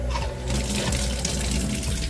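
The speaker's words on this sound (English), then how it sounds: "all I gotta do is turn this valve on," Water rushes steadily through home plumbing toward whole-house filters in a fish room once a valve is opened, a continuous broadband hiss heard close and alone.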